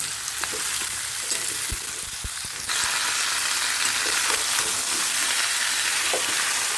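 Pumpkin and potato pieces with spices being stirred in a hot frying pan, a steady sizzle throughout with scattered scraping knocks of the spatula, loud and close with no talking.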